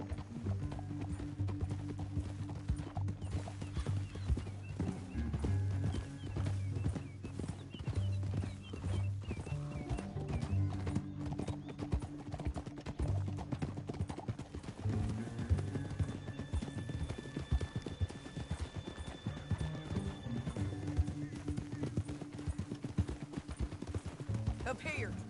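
Steady clip-clop of horse hooves trotting in the video game Red Dead Redemption 2, with occasional whinnies and a background score of sustained tones.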